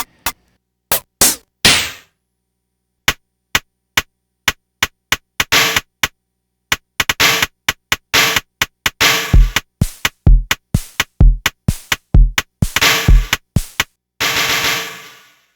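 Jomox Xbase 09 drum machine pounding out a heavy, lazy beat, loud and dry in mono, with sparse hits at first that thicken into dense, driving kicks and snares before a sustained noisy wash at the end.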